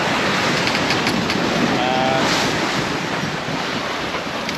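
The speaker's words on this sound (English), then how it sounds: "now we have 26 knots of wind in the gusts" Strong gusty wind of around 26 knots roars steadily over a sailboat running wing on wing across the open Atlantic, with waves surging and washing close by in a continuous loud rush.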